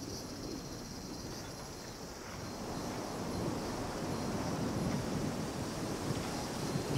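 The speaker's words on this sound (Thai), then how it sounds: "สายลมเอื่อยๆ ซึ่งอันนี้ผมเชื่อว่า ทีมงานนี้ต้องตั้งพัดลมกันอย่างสุดขีดมากๆนะเพื่อให้ได้โมเมนต์นี้" A steady, soft rushing breeze from fans on a film set, a broad even airy wash that swells slightly midway, with no voices.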